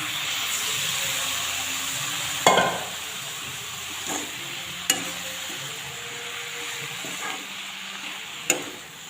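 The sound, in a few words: spinach added to fish frying in a pan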